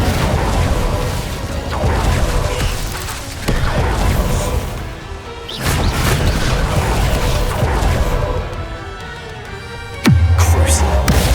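Fire spell cast in the Hogwarts Legacy video game, heard as loud, dense whooshing bursts and booming impacts in a continuous barrage of spell effects, ending in a sharp low thud with a lingering rumble.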